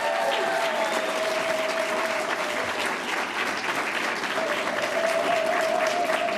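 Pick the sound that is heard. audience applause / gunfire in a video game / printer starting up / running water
audience applause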